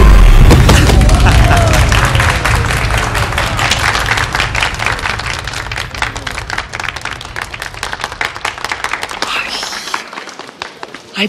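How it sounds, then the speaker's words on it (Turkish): Audience applause with claps loud and close at first, thinning into scattered individual claps that fade toward the end, with some voices mixed in. "Evet hadi bir alkış daha"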